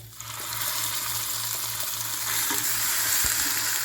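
Ground small-onion (shallot) paste sautéing in hot oil with curry leaves and a pinch of asafoetida for chutney gives a steady, close sizzle and crackle that builds slightly and carries on alone without any talk.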